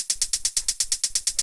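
Closed hi-hat built from a pitched-down shaker sample in a modern techno beat, repeating as a fast even run of crisp, bright ticks with a short attack and a soft low thump under each, played alone and fairly loud.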